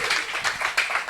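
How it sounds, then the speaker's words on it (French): A church congregation claps together in praise, a dense run of rhythmic hand claps that swells in irregular bursts and carries on steadily without any voices over it. "Acclame pour dire merci à Dieu."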